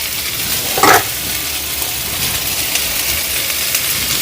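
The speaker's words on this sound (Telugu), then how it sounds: "రెండు చిన్న టమాటోలను వేస్తున్నాను" Small tomatoes sizzle and fry steadily in a pan for pudina chutney, a broad hissing crackle with a brief louder stir or clatter near the start, no voices.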